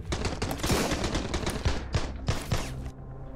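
Bursts of machine gun fire in the survival game Sunkenland, rapid close cracks in short volleys for about three seconds before stopping abruptly.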